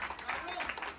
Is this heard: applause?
yes